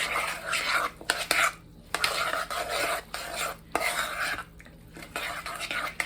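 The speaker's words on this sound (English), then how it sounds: "and then we're gonna mix it, guys" Jamaican cooking base being stirred in a pot, a spoon scraping and clinking against the sides in repeated strokes with brief pauses, close and moderately loud, no talking.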